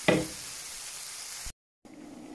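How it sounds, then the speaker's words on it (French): Onions frying in oil in a pan, giving a steady, even sizzle that cuts off abruptly and then returns more softly after a short gap. "Pendant que mes oignons ils sont en train de cuire dans la poêle"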